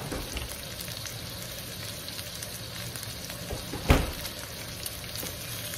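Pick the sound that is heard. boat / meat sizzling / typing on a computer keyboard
meat sizzling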